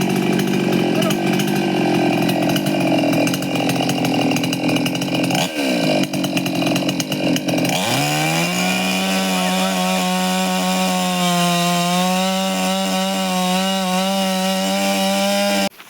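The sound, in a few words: chainsaw cutting wood to take out a beehive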